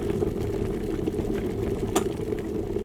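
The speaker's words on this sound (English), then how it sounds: "loads of variations of the water boiling" Water boiling in a kettle, a dense steady bubbling and rumbling close up with a faint hiss, unbroken for a few seconds and then cut off abruptly.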